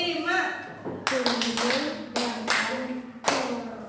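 A group of sixth-grade primary school children clapping a rhythm pattern in class, a series of sharp, loud group claps in uneven bursts, with a voice speaking at the start.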